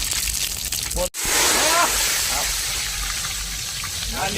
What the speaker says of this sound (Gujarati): વઘારનો છટકારો માર્યો છે પાણીનો.